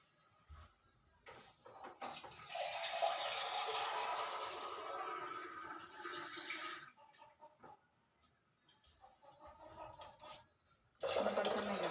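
Water is poured from a container into a bowl, giving a close, steady splashing stream for several seconds, followed by quieter trickles and a second short pour.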